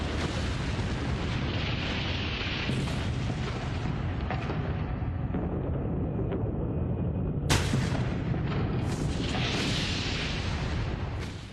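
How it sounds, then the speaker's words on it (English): Atomic bomb blast sound effect from the 1945 Hiroshima bombing: a loud, continuous roaring rumble with a sharp surge near the middle, dense and sustained throughout with no speech. "A fraction of a second later came a powerful shockwave which moved at the speed of sound."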